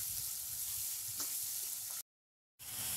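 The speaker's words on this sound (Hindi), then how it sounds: "प्याज को हम तलाते हुए सॉफ्ट होने तक भून लेंगे।" Onions softening and starting to brown in a pan over medium heat give off a quiet, even sizzle that cuts out for half a second before resuming.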